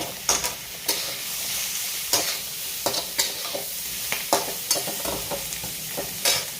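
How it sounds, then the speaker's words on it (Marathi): Sizzling curd paneer masala in a pan with repeated scraping strokes of a spoon stirring through it, a regular rhythm of clacks over the constant hiss. "चला आता हे सगळं मिश्रण मी एकदा हलवून घेते"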